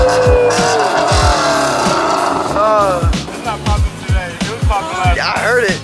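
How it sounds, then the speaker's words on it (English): A Subaru pulls up and drives at a car show, its engine revving loudly in sharp bursts close by, with a crowd talking throughout. "Got the Subi pulling up."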